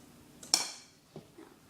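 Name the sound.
mixing brownie cake batter in a bowl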